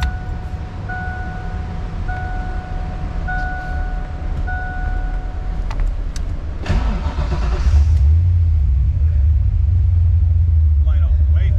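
A car that has always been slow to start, being tuned on its cranking fuel, turns over with a steady rumble, catches around the middle and settles into a louder idle, with people talking over it.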